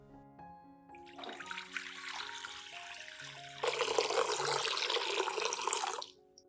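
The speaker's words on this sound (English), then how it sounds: "prepare a clean glass bowl and pour in about 1 liter of clean water" Room-temperature water pours into a clean glass bowl, a steady splashing stream that grows fuller and louder partway through, with faint tonal ringing underneath.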